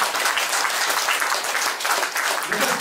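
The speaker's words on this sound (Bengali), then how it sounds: "সবাই একবার হাততালি দিন নিজেদের জন্য" An audience at a lifestyle medicine and meditation workshop claps steadily, a dense continuous round of many hands filling the room for several seconds.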